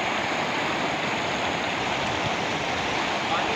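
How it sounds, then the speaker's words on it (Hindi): Fast-flowing stream water rushing past, a dense steady broadband roar close by and fairly loud throughout, with a voice faintly present beneath it. "अरे पानी तेज आ गया उधर से"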